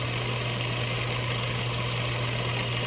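An industrial sewing machine runs at constant speed, its motor giving off a steady mechanical hum with a low buzzing tone as the needle moves up and down.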